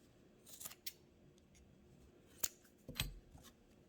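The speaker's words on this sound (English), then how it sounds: "you're going to cut those in half" Scissors snip through crocheted yarn strands for a donkey amigurumi, a few quiet close snips spread over a few seconds with near silence between them.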